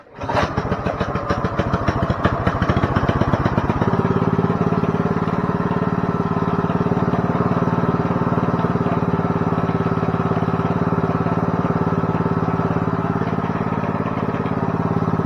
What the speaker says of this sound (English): See, now the clutch is engaging.